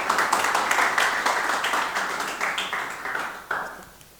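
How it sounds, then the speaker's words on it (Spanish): An indoor audience at a talk on water and rain gardens claps warmly in welcome, a dense burst of applause that is loud at first and then thins out and fades over about four seconds. "Recibimos con un fuerte aplauso"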